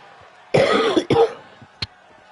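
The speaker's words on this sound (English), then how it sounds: "Sometimes when I cough, I will try and mute my mic so I don't deafen you." A single person coughs hard twice in quick succession, close and loud, followed by a short throat sound.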